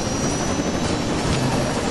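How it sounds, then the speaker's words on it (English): A helicopter hovers overhead in the video game Saints Row 2, giving a steady, continuous rotor and engine roar that stays loud and constant throughout, with no speech. "You can try to shoot out the helicopter that's hovering over you"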